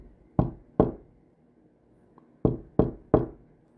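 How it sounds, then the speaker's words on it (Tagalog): Five sharp knocks on a wooden door, close by, in two groups: two raps, a pause, then three quicker raps, with quiet between. "Daan-daan siyang lumapit at kumatok sa pinto."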